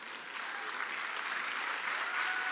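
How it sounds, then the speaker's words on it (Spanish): Audience applause in a church, a sustained, even wash of many hands clapping together, filling the space at moderate loudness without pause. "Aplaudís porque sabés que no es cierto, ¿no?"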